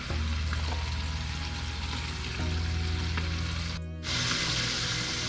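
Mustard fried chicken sizzles and crackles in hot frying oil, a steady dense hiss with a low hum underneath, interrupted near the end by a brief quieter gap before the sizzling resumes.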